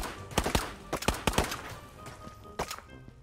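Gunfire in Ghosts of Tabor comes as a quick series of sharp shots, several in rapid pairs in the first second and a half, then two more after a pause, fairly close over a quiet background.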